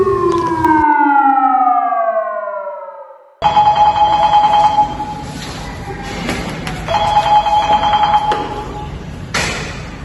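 A loud electronic fire truck siren in Candon City, Philippines, sweeps downward, cuts out, then a steady high-pitched wailing tone continues with engine rumble and clatter beneath it.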